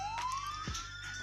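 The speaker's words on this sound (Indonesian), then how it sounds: "ketika modul Sirine dipasang di unit atau dicoba dites," Ambulance siren module under test, giving a short electronic tone that rises steadily, with brief chirps and a low blip, heard on its own without voices.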